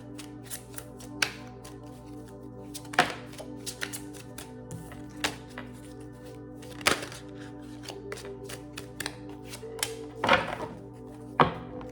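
Tarot cards are shuffled in short, crisp bursts, scattered across the quiet clip, with soft flicks and taps between them, close by.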